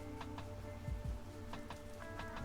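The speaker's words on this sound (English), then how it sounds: "it's raining a lot and it's making my internet quite unstable" Heavy rain falling, a steady dense hiss of drops with scattered sharper taps on surfaces, faint and continuous in the background with no talking.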